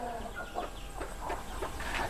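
Hens in a layered livestock shed, kept below sheep, cluck softly in short repeated notes over a steady, dense background hum.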